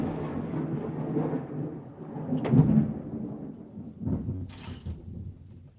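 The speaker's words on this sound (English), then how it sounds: "It's alright, it's just thunder." Deep rolling thunder rumbles through the whole clip, swelling to a louder crack and boom midway, with rain hissing steadily in the background.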